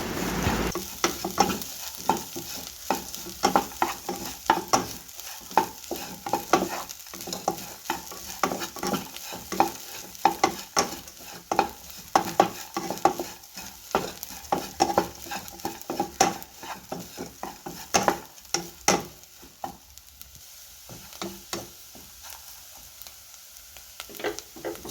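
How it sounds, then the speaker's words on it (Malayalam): Grated coconut and sambar spinach sauté in a pan for thoran, a soft continuous sizzle punctuated by rapid, rhythmic spatula scrapes and taps, close up with no voices. "എന്നിട്ട് നമുക്ക് നല്ലപോലെ ഇതും കൂടെ ഒന്ന് നല്ലപോലെ വഴറ്റി കൊടുക്കാം."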